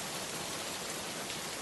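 Steady rain pours down in an even, continuous hiss, with no voices or other sounds breaking through.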